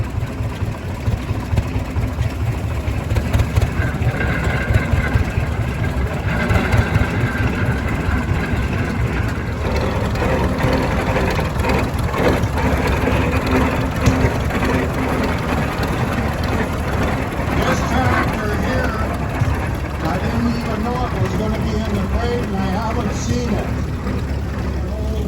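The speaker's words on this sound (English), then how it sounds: "this tractor is another Rumley oil pull" A Rumley OilPull tractor, roughly a 15-20 model, runs steadily with a low, continuous engine rumble that stays loud and even throughout, with some background chatter mixed in.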